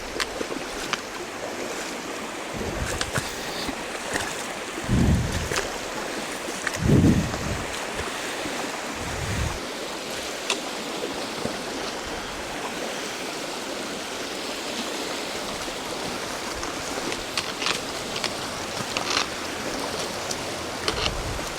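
Fast-flowing upstream pocket water rushes steadily around an angler fly fishing for grayling, a broad continuous wash with a few heavier splashes and wading thumps near the start.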